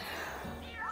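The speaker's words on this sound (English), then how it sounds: "Meowth does meow things." Meowth, the Pokémon, meows in New Pokemon Snap, one short high rising cry near the end of a quiet game scene with a faint background hum.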